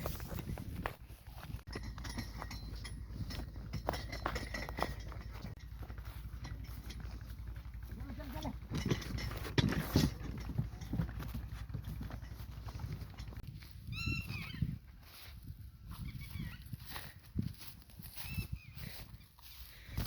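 Horse hooves clip-clop on the ground at a stable as a mare is led out, steady and moderately close, mixed with background noise and occasional voices.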